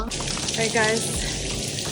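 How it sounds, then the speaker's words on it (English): Heavy rain hisses steadily across a school campus while someone walks under an umbrella, a broad continuous wash with a person speaking briefly over it. "It's raining really hard."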